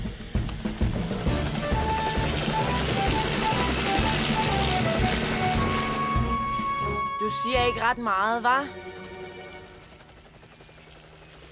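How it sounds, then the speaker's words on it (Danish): A helicopter in the Fireman Sam cartoon flies overhead with a steady rotor drone that holds for several seconds, then fades away while a voice speaks across it and music takes over. "Det lyder altså som Toms helikopter."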